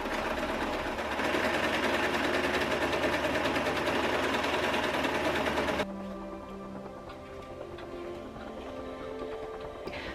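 A sewing machine stitches trousers from deadstock fabric, running in a fast steady whir for several seconds before stopping abruptly, leaving quieter rattles and clicks of handling in the room.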